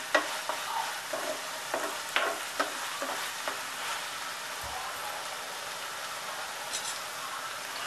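Pitla, a Maharashtrian gram-flour paste dish with chili paste, sizzles steadily in a pan, a constant hiss broken by scattered scraping stirs from a spoon early on, with no talking.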